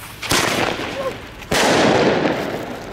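New Year's fireworks going off outdoors: two sharp, loud bangs about a second apart, the second followed by a crackling, rumbling tail, with people talking faintly in the background.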